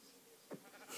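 A single short sheep bleat in the Minecraft video game, faint and brief against a quiet, hissy background.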